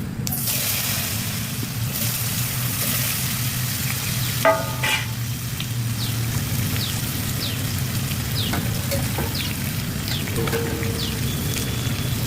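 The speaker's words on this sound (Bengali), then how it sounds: "এবারে ওলগুলোকে কড়াইয়ের মধ্যে দিয়ে দেবো" Elephant foot yam pieces frying in hot oil in a wok, a steady loud sizzle throughout with occasional stirring scrapes and clinks.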